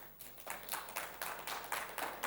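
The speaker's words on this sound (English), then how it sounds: "can we open digital resources with applause?" Scattered audience clapping at the opening of a media education conference session, a thin, uneven patter of hands that swells slightly across a couple of seconds, faint and somewhat distant.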